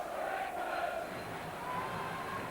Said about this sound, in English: Limboy for England, shout the crowd